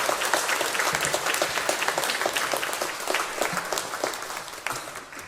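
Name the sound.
congregation applause in church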